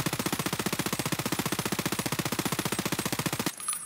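A P90 SMG loaded with SB193 rounds firing full auto in a video game, a loud, rapid, perfectly even stream of gunshots for about three and a half seconds before it cuts off.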